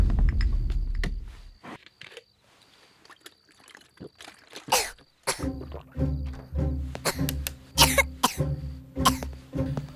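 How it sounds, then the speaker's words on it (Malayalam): A boy coughing in several short, harsh bursts, clustered in the second half, with quiet gaps between and a deep thump near the start. "എന്താ മോനെ, എന്താ ചുമക്കുന്നത്?"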